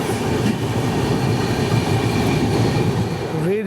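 The Ahmedabad Howrah Superfast Express rumbles past close by in a loud, continuous roar of wheels and carriages, with a brief high squeal near the end.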